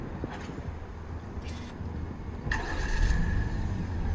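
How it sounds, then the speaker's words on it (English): A 2023 Hyundai Santa Fe engine turns over and settles into a steady idle after a remote key start, heard from close by outside the vehicle over a low background rumble. "And that's your engine start."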